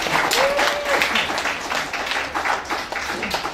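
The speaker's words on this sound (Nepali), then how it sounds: "हामी सम्पूर्ण महानुभावहरूको निम्ति पनि ताली बजाएर हामी स्वागत गर्नेछौँ" Sustained audience applause welcomes the guests at a Nepali Christian wedding ceremony, a dense, steady wash of many hands clapping close by that lasts throughout, with a brief whistle-like tone near the start.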